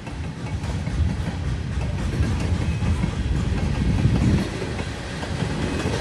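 Freight train cars roll steadily past up close, a loud continuous rumble of wheels and rail clatter with a brief swell near the end, no voices over it.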